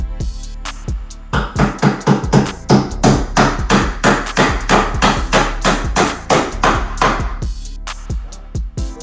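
A hammer strikes wood in a fast, steady run of sharp, loud blows during the building of a DIY pedicure platform, with short pauses at the start and end.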